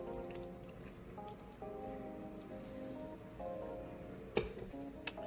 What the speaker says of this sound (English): So we're going to pour this right on over back over our ham.